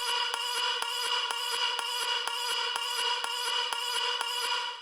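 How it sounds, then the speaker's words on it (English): Tech house vocal chop sample, a short clipped vocal snippet repeating in a steady fast rhythm of about ten stabs, loud and bright, playing alone without other speech. "the first thing we have here is this vocal chop"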